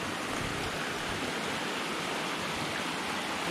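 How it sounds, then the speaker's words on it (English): Meigs Creek Cascade waterfall in the Great Smoky Mountains rushes as a steady, even wash of falling water, moderately close and unbroken, with no voices over it. "Look at this beautiful waterfall."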